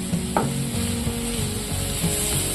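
A steady sizzle of cluster beans frying in hot oil with turmeric and chilli powder, with faint scraping and stirring sounds, close by and continuous.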